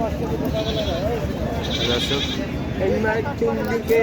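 A goat bleats at Baneshwar livestock market, with short wavering calls rising over busy crowd chatter and someone talking nearby.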